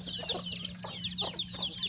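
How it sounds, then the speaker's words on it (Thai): Village chickens cluck and chatter close by during an evening feeding of paddy rice, with a steady low hum beneath the quick, overlapping calls. "ไก่ชาวบ้านครับ"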